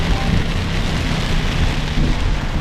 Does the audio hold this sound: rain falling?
yes